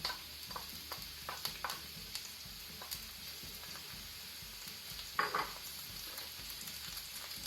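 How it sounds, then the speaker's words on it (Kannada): Onion fries in hot ghee oil with a quiet, steady sizzle, faint and close, broken by occasional light ticks and a clink of stirring. "ಗೀ ಆಯಿಲ್ ಬಿಸಿಯಾದ ನಂತರ ಆನಿಯನ್ ಹಾಕೊಳ್ಳುವ."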